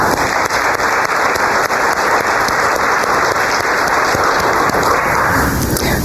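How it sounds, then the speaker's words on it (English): Sustained loud applause from a large crowd, dense even clapping that keeps going throughout without pause. "Please join me in one last round of applause for all of the honorees."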